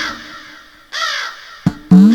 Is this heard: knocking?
no